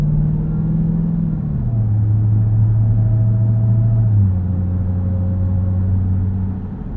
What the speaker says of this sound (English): Eco mode's nice. Just kind of idles along.